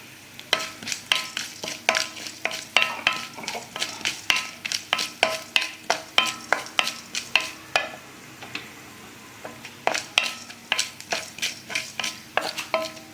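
Whole cinnamon, cloves, fennel seeds and peppercorns fry in hot oil for a banana stem soup, giving rapid, loud crackling pops in irregular bursts with brief pauses, close up and with no voices.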